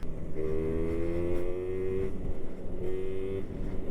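A vintage moped engine being ridden, a thin buzzing whine that climbs and dips in pitch as the throttle changes, steady and close throughout.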